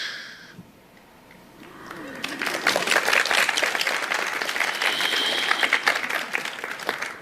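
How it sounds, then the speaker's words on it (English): After a short quiet lead-in with a brief voice, an audience at a channeling talk breaks into applause that swells and holds as a dense, lively clatter of many hands to the end. "You are applauding just for that."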